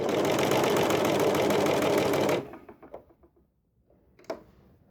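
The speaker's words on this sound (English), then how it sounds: "That is gathering on an overlocker." A serger/overlocker runs loudly and continuously as it stitches fabric and gathers it onto the needle threads, then stops abruptly, leaving faint handling clicks and one brief knock.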